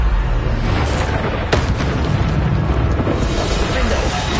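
A Bombarda spell explosion in Hogwarts Legacy, a loud booming blast with a sharp crack and rumbling roar that sustains under continuous dense noise, with a voice briefly present.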